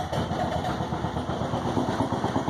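A 2006 Mokai boat's converted Subaru engine catches and settles into a steady idle, a loud, continuous throbbing rumble with even pulses, close by and alone without any voices.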